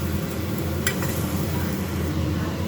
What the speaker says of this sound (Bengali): এবার একটু জল দিয়ে মশলাটা কষিয়ে নেব